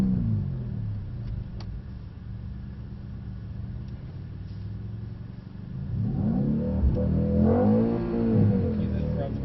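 A car engine rumbles low, then revs up in rising surges over the last few seconds while an instructor speaks nearby.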